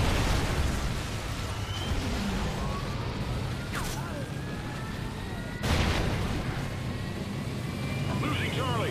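A Trinity rocket strike lands in a video game, with aircraft whooshes and a sharp explosive burst midway over a dense rumbling battlefield din.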